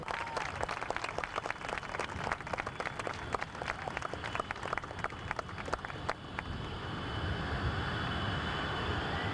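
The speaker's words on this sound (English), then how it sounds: "Taxiing just off to our right, the Blue Angel will be turning into the parking area momentarily." A Blue Angels jet taxiing at a 1991 military air show at Quonset ANGB, heard after scattered crowd clapping as a broad, steady jet roar swells over the last few seconds.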